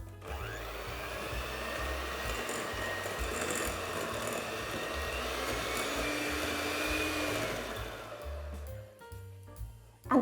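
Electric hand mixer beating margarine and sugar together in a bowl, a steady loud whirring drone holding for about eight seconds before cutting out, with a few faint clatters at the end.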